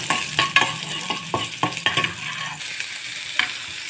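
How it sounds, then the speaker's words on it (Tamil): Ginger garlic paste fries in hot ghee in a pan, close and sizzling, while a spoon scrapes and stirs it in quick, irregular strokes that ease off toward the end. "நெய் காய்ஞ்சதும் இஞ்சி பூண்டு விழுது சேர்த்துக்கோங்க."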